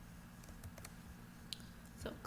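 Computer keyboard typing, faint scattered key clicks over a low steady background hum, sparse and quiet with no speech.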